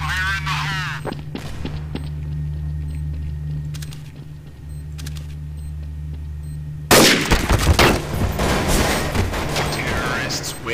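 Counter-Strike: Source round on a bomb map: a steady low hum and sparse clicks give way to a sudden loud blast followed by dense, crackling gunfire and rumble, a voice briefly heard early on.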